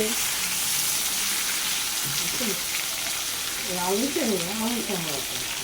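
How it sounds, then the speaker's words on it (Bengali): Pumpkin and potato pieces fry in a covered pan with a steady, close sizzle throughout, while a voice speaks briefly over it partway through. "আর একটু লাল হবে ভাজাটা, ঢেকে ঢেকে ভেজে নিচ্ছি আমরা কুমড়ো আর আলু।"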